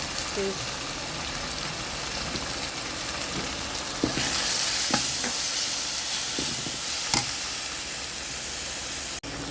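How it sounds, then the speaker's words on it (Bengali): Spice masala with dried chili paste and ground coriander frying and being stirred in a pan for meat curry, a steady close sizzle with scraping stir strokes throughout. "দিয়ে মশলাটাকে আমি কষাই নিচ্ছি। আমি কিছুক্ষণ কষাবো।"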